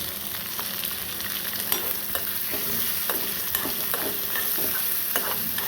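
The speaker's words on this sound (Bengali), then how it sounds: "তেল গরম হলে দিব, আস্তে আস্তে ডিমের সাথে আস্তে পেঁয়াজটাও ভেজে নেব।" Sliced onion frying and being stirred in hot oil in a kadai alongside egg, a loud continuous sizzle with scraping stir strokes, close up and without talk.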